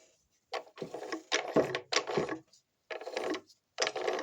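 Lathe spindle and gears turning in a TV4 metal lathe after the spindle is fitted, giving several bursts of mechanical whirring and gear rattle separated by short pauses, close and moderately loud.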